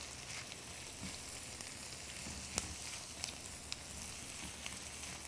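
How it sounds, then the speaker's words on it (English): Lima beans and tomatoes sizzle softly in a hot pan while being stirred, a steady quiet frying hiss with a few faint clicks and scrapes, no voices. "we're going to add some limas. So let's go ahead and add those, stir this together"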